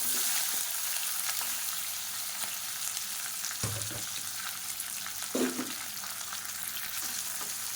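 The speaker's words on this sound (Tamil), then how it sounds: "அதோட நீளமாக நறுக்கின பெரிய வெங்காயம் 2 சேர்த்துக்கலாம்." Long-sliced onions fry in hot oil with green chillies and spices for onion kurma, giving a continuous sizzling hiss broken by a couple of stirring scrapes and clanks, with no voices.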